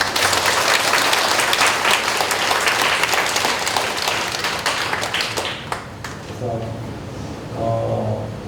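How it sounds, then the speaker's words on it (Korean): Applause from the congregation at a Marian devotional Mass in Seoul, dense clapping filling the room for several seconds before thinning out, with a brief hum and a voice near the end. "기자님 위해서 한번 박수 부탁드립니다"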